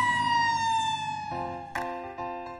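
A loud wailing emergency siren sweeps in pitch, shifting tone partway through, with traffic rumble underneath and no talking.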